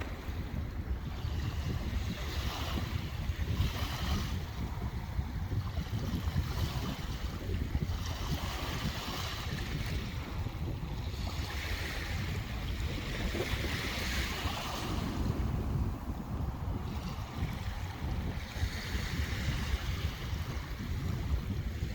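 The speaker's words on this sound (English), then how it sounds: "I sense an incoming tide" Surf from an incoming tide washes onto the beach at Drains Bay in Ireland, a steady broadband roar of breaking waves with wind buffeting the microphone throughout, no voices.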